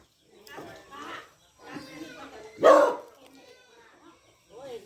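Dogs bark out near a cassava plantation, several separate barks and yelps in short bursts with gaps between, one louder and closer than the rest.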